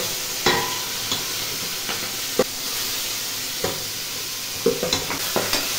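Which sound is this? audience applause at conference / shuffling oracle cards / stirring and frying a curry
stirring and frying a curry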